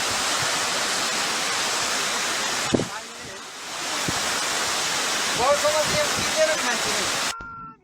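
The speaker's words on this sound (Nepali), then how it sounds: "यहाँ धेरै हावा चल्दाखेरि झरनाको धार नै परिवर्तन भएको जस्तो अनुभूति हामीले गर्न सक्छौँ।" A Nepal waterfall roars steadily as broadband rushing water while strong wind blows across the falls. The roar dips briefly, then a faint voice-like tone rises near the end before the sound cuts off abruptly.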